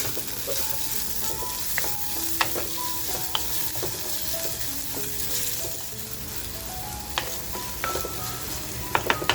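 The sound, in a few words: chopped onion frying in a pan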